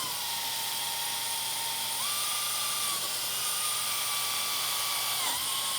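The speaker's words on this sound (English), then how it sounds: "This is a wire wheel kit for drills" A drill spins a wire wheel against a rusty car frame, a continuous high whine with a loud scratchy rasp that shifts pitch slightly as pressure changes, steady and close throughout.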